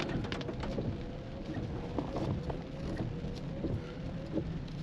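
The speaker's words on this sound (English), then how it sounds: "Of course, it's still raining here." Steady rain falls across a campground during a race car show, a continuous broadband hiss with scattered drop patter and a faint low rumble, no voices.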